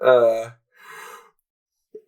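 A man yawns late at night during a wrestling podcast: a long drawn-out voiced yawn, then a softer breathy exhale and a tiny closing sound, all close to the microphone.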